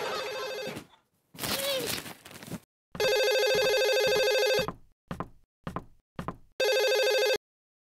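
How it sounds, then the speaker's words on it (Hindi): An old-style telephone bell in a household scene rings in loud repeated bursts with short gaps between them, overlapping voices and a knock early on. "घंटी बज रही है नीचे, फोन की घंटी।"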